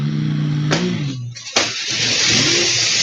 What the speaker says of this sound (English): And Jake Riley inside the green Mustang fastback.